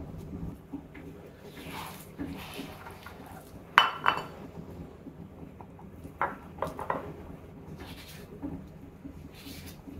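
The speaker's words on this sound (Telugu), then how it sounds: "దీన్ని వేరే గిన్నెలోకి తీసుకుందాం." Guava chutney is scraped and spooned from a pan into another bowl, with intermittent metallic clinks and scrapes of a spoon on the vessel, a couple of sharper clanks standing out over a soft kitchen background.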